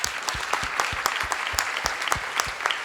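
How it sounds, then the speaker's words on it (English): Audience applause at a youth leaders summit ceremony after a question session, continuous crowd clapping with individual sharp claps standing out close by, little talk beneath. "So let's have a round of applause."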